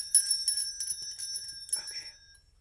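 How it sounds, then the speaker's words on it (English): A small hand bell rung during an astrology reading gives a bright, clear ringing close by, several quick strikes with tones that ring on and then fade out. "I'm going to ring this bell."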